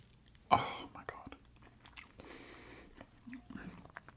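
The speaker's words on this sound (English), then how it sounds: "A slight crunch on the outside, very gentle crunch, and then just a buttery softness on the inside." Close, quiet chewing of a crunchy bourbon shortbread cookie with orange peel, opening with one sharp bite followed by soft, irregular crunches and mouth sounds.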